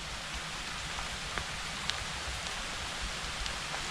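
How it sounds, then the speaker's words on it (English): Steady rain falls outdoors near a forest, an even hiss with a few distinct drops landing close by. "I love the sound of rain."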